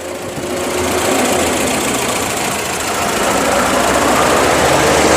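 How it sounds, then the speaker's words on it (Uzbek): A Gazel van's engine idles steadily, a continuous close mechanical rumble with a busy rattling texture holding the same level throughout. "motor ham soatda ishlayapti-ku."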